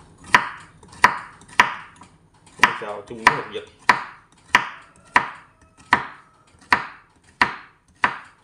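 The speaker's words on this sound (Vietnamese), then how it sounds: "Trước tiên mình sẽ xắt khô qua trước nghe cả nhà" A knife chops dried meat on a board in a home kitchen with about a dozen sharp, evenly spaced thwacks close to the microphone. A brief spoken phrase comes between the cuts.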